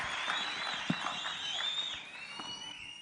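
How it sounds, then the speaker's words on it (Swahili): An outdoor crowd at a burial ceremony applauds a governor, producing a steady wash of distant clapping with whistles rising above it, moderately loud and continuous throughout. "tumpigie makofi tafadhali akija"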